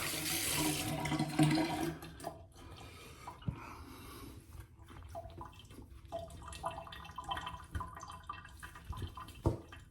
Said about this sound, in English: Okay, rinse my hands off.